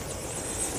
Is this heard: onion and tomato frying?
no